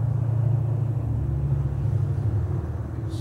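A 1929 Chrysler 360 engine cranking on a weak starter with a failing battery: a steady, heavy, low mechanical churning rumble, close and continuous, with no firing.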